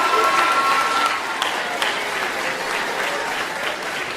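An audience applauds steadily, a dense wash of clapping that holds at an even level from start to finish with no voices over it.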